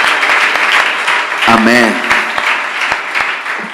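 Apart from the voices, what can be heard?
congregation applauding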